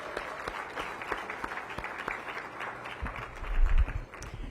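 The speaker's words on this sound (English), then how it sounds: "We should give her a round of applause for this." An audience applauds at a mayoral announcement about small local manufacturers, a sustained mid-distance clapping from a crowd with a low thump near the end.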